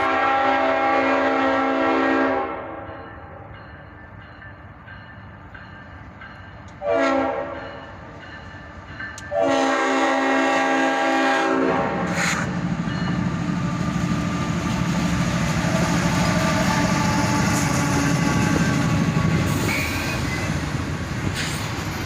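A freight train passes close by with its horn blaring in long blasts, a short pause, then another blast, followed by a steady rumble and clatter of rail cars.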